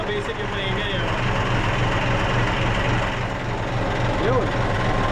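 A diesel engine idles steadily with a noisy fuel injector knocking through a rough, continuous drone, close and loud throughout, with a brief voice in the background.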